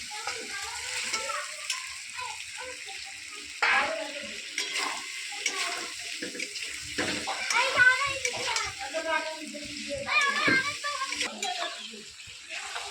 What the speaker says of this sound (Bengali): দশ মিনিট হয়ে গেছে কষানো, ভালোভাবে কষিয়ে নিয়েছি